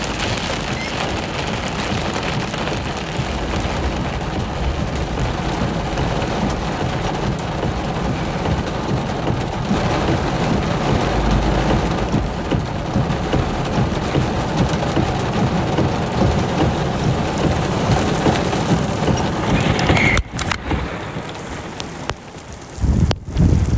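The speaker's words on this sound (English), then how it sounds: "It's just so heavy in rain right now." Heavy rain pours steadily during a severe thunderstorm in West Texas, a dense broadband hiss with gusting wind and occasional buffeting on the microphone, continuous and loud throughout with no voices.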